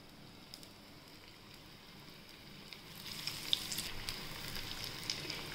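Potato cheese balls coated in breadcrumbs dropped into hot oil, a soft sizzle that grows louder and more crackly partway through, fairly faint overall and with no talking.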